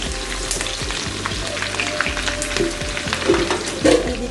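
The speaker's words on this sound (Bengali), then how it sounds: "তেহারি রান্না করার জন্য পেঁয়াজ ভেজে নিচ্ছি" Onions frying in oil for Bangladeshi beef tehari, a close steady sizzle with scraping stirs that grow louder toward the end.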